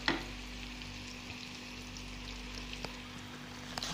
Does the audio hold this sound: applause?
no